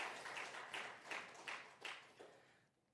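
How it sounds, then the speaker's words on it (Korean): A church congregation at a Wednesday worship service claps in a few rhythmic bursts, moderately distant and fading out after about two and a half seconds. "우리 박수로 하나님께 영광 돌리겠습니다"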